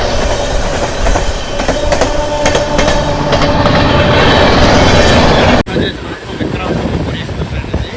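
The Ganga Kaveri Express passes close by, a loud continuous roar of wheels with rhythmic clacking over the rails that cuts off abruptly to a quieter rumble near the end.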